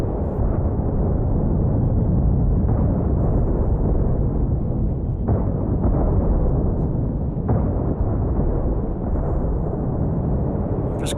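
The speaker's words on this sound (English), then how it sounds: "This railgun barrage." Railgun barrage in the space game The Last Starship, a dense and steady roar of rumbling explosions and impacts, loud and unbroken from start to finish.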